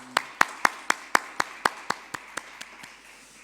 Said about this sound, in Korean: 함께 박수로 하나님께 영광 돌려드리겠습니다